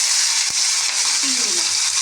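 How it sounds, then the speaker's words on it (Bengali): Whole cumin seeds and two dry red chillies sizzle in hot oil as tempering for a bottle gourd and prawn curry, a loud steady hiss throughout with one brief knock near the start. "তেল গরম হয়ে গেছে, তার মধ্যে গোটা জিরে আর দুটো শুকনো লঙ্কা ফোড়ন দিয়ে দিলাম"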